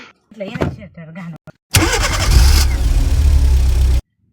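Car engine cranks and catches after a few spoken words, then settles into a loud, steady idle rumble that cuts off abruptly.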